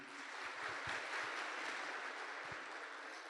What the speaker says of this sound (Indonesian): Tepuk tangan untuk Bapak Ruli Wahyudi.